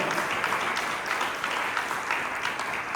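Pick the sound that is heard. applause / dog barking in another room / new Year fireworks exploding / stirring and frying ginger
applause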